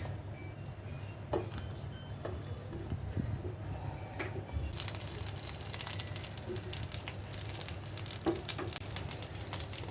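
Dried chilies frying in hot mustard oil, a steady close sizzle and crackle running throughout, growing busier and brighter about halfway through, with light clinks of a utensil.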